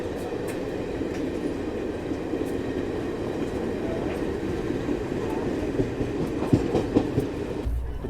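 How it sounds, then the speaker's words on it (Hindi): Garib Rath Express rolling steadily on Indian Railways track after leaving Hardoi, a continuous close rumble of wheels and carriage noise with faint clickety-clack, heard from inside the coach. "तो चलो अभी ट्रेन हमारी हरदोई से निकली है"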